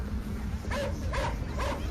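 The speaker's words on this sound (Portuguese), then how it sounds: "De repente, eles começam a latir desesperadamente." Two dogs shut in a backyard bark urgently, three sharp barks in quick succession over a steady background rumble.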